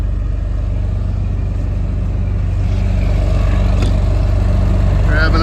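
A vehicle engine drones loud and close, labouring uphill through snow toward a farm barn in winter, with a steady low rumble that shifts slightly as the gear changes and a voice talks over it.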